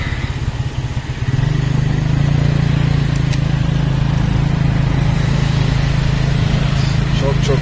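In a Siem Reap street, a motorcycle pulling a taxi carriage revs up, then holds a steady, loud, close engine drone, with a voice talking over it.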